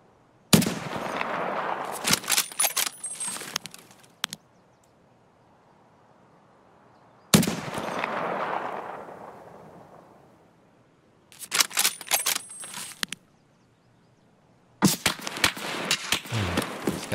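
Bursts of rapid video game gunfire from the DVL rifle come in four separate volleys, each a dense rattle of loud shots with short pauses of near silence between them.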